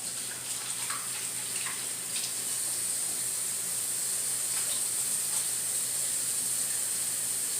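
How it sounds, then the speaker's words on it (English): Hands being washed under a running kitchen tap, a steady hissing stream of water with faint splashes, close and continuous. "let me wash my hands"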